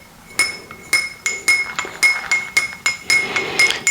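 A spoon clinks rapidly against a glass while a natural coffee drink with honey is stirred. The bright metal-on-glass taps come about twice a second in a steady rhythm. They are close and clear, with no talking.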